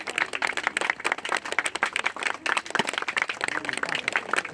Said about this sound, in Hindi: हम सभी जोरदार तालियों से इसका स्वागत करेंगे।